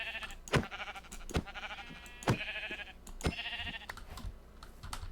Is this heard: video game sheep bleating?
yes